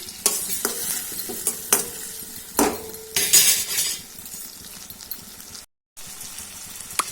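A spoon scrapes and clinks against a pan while tomato coconut chutney is stirred, giving irregular bursts of stirring and a faint sizzle, loud and close, with a brief dropout near the end.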